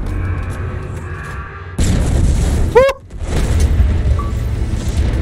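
Explosions and gunfire in the video game Halo Infinite, with a loud booming burst that cuts in sharply over a dense rumbling battle, then a quick chirping sweep and a dip before the noise swells again.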